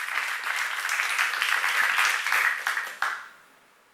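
A church congregation at a seminar breaks into steady applause, dense clapping for about three seconds before fading out quickly.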